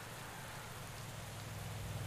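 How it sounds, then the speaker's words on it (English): Steady rain pours down during a wet Milano-San Remo road race in the cycling game Pro Cycling Manager 2020, a constant hiss with a low rumble beneath, unbroken for the whole stretch. "It's pouring down rain."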